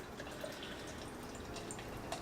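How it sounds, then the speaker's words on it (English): Moosehead stout being poured into a pale ale glass, a faint, continuous liquid trickle and fill close by. "So I'll pour it into my Moosehead pale ale glass."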